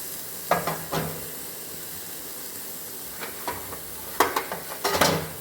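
Grated raw mango being stirred in oil in a pan for a summer chutney, with short bursts of scraping and sizzling at the start and a louder cluster near the end, quiet in between.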